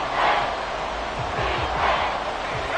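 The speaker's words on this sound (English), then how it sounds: "This crowd turning up the decibel level." A stadium crowd in the Madden 24 football game roars in a steady wash, swelling a little and then settling. The crowd noise sounds fairly close and fills the space.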